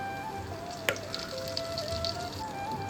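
Bay leaves, cumin seeds, asafoetida and curry leaves crackle and sizzle in hot oil for a Gujarati corn pulao, a steady close frying hiss with one sharp pop near the start and faint clicks throughout.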